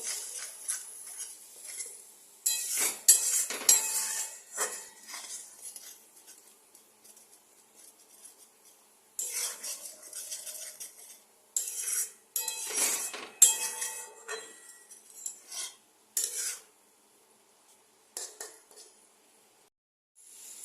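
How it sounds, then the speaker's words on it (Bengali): Spice masala for egg curry stirred and sautéed in a home kitchen pan, heard as bursts of metal spoon scraping and clinking against the pan, separated by short quiet gaps, close and moderately loud. "এবার এই মশলাটা আমি ভালো করে কষিয়ে নেব।"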